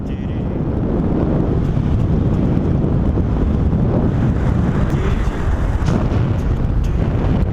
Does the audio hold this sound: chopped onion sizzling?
no